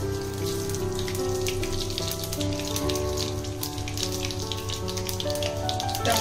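Panch phoron and whole mustard seeds, with bay leaves, crackle and sizzle in hot oil for a home-cooked fish shukto, a dense continuous popping spatter close up over a steady tonal background.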